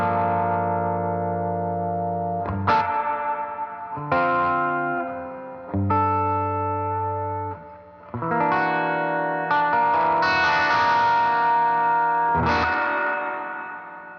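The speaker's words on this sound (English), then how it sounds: "if I wanted to go into the reverb and like really add some reverb." Sustained guitar-like chords and notes run through a Volt 876 audio interface with heavy reverb and effects, played in several loud phrases whose tails wash and ring out between new attacks.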